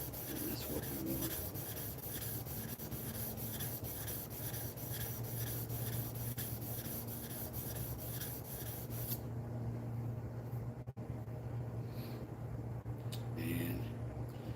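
The tip of a Stanley No. 4 hand plane blade is rubbed flat on an abrasive with a steady, continuous scraping that carries on for about nine seconds, then grows quieter and more sporadic.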